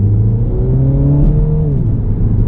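A Mini Cooper S Resolute Edition accelerates hard from inside the cabin, its engine note climbing through the revs with a brief dip at a gear change, loud and steady with no talk.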